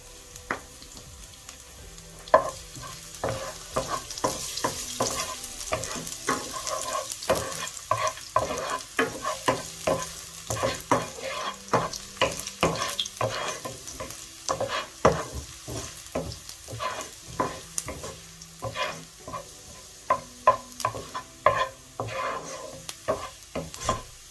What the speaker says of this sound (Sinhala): ඒකට මම සුදු ලුණු බික් දෙකක් පොඩිවට කපා ගත්තා. ඒක දාලා පොඩ්ඩක් කර ගන්නවා.